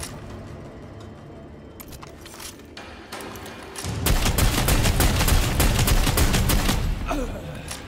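Gunfire in Necromunda Underhive Wars: a few scattered shots at first, then a loud burst of rapid, overlapping gunshots that rattles on for several seconds before tapering off, heard alone.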